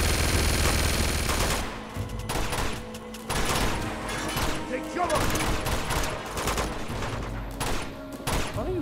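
Gunfire in the video game Uncharted 2: Among Thieves, loud rapid bursts of automatic weapons forming a dense, near-continuous fusillade with scattered single shots.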